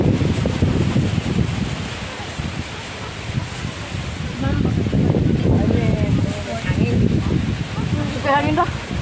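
Steady outdoor wind buffets the microphone with a constant low roar, and children and adults talk over it near a seedling patch.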